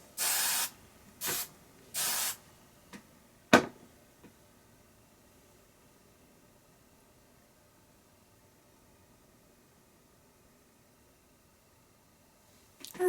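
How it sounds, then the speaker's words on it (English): Three short hissing bursts of hairspray close up on styled hair, then a sharper click and a long near-silent stretch. "Give it a spray."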